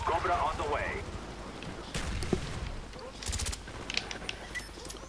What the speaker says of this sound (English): we threw a little grenade up here, but you should have cooked it, sir.